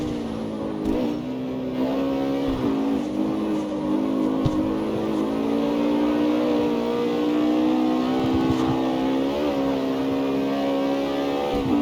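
A customized Ford Mustang drives in the video game CarX Street at night, its engine a steady, loud, close-up droning growl with small pitch rises and dips as the throttle shifts, and no talk over it.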